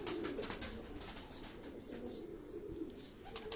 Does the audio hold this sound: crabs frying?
no